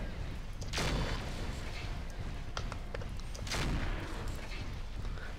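A gauss rifle firing in the MechWarrior 4: Mercenaries video game, two heavy booming shots a few seconds apart over dense rumbling battle noise, with scattered smaller impacts between them.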